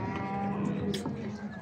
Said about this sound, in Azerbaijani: Bu belə erkək danalar satılır